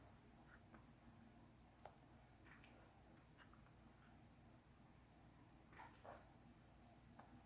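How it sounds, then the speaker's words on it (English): A steady run of rhythmic cricket chirps, faint and distant, pulsing regularly with a short gap before resuming, in an otherwise quiet night setting. "Nothing beats the sounds of crickets bellowing in the"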